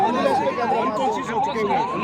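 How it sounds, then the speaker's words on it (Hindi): Ambulance siren wailing continuously at a protest where an elderly demonstrator was hospitalized, its rising and falling tone repeating about every half second, loud and close over crowd noise. "आपको एम्बुलेंस की बात सुनाई"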